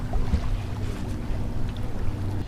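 Steady wind rushing past a sailboat as it bears off onto a broad reach, with water swishing along the hull, continuous and fairly close with no talking.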